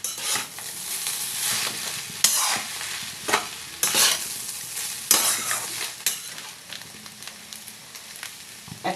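Tomatoes and salt stir-fried for chowmein in a hot pan, with steady sizzling and repeated scraping spatula strokes that clack sharply every second or so, close and fairly loud with no voices.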